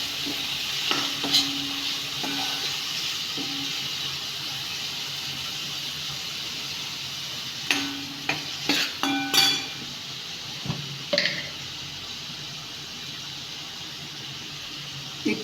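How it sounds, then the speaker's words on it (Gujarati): Ivy gourd (tindora) curry frying in a pan sizzles steadily while a spoon stirs and scrapes it, with clusters of clinks against the pan coming in bursts; no talking is heard. "હવે આ બધું જ આપણે હલાવી દઈશું."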